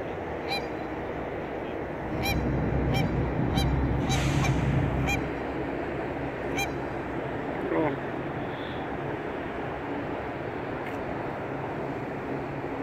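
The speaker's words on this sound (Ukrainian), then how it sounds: "Канадські гуси." Canada geese on the Columbia River in Portland honking in a series of sharp, repeated calls over steady outdoor rumble, fairly close at first and then sparser, with someone speaking briefly.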